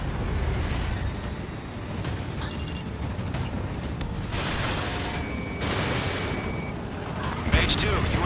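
Missile launches and explosions during aerial combat in the video game Ace Combat 7, with several booming bursts and whooshes over continuous jet engine roar, mixed with radio chatter and tonal cockpit alerts.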